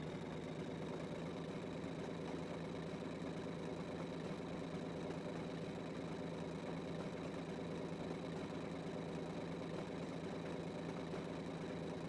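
Diesel locomotive engine in Train Simulator 2014, an IHH Port Road green diesel, droning steadily inside a tunnel, a constant low rumble with a faint whine and no clear rise in pitch, heard alone at moderate volume.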